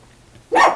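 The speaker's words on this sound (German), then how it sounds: "Das war mein Hund." A dog gives a single short, sharp bark close by, after a moment of near quiet.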